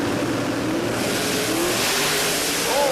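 A Holden Commodore drag car accelerates down the strip at the Garrett Sydney Jamboree 2025, its engine roaring loud and constant with a rising pitch throughout.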